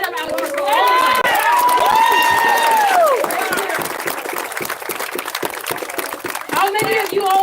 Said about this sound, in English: Can we just give a round of applause for Jay for bringing this microphone set up out here for everybody?